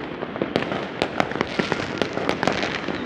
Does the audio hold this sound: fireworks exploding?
yes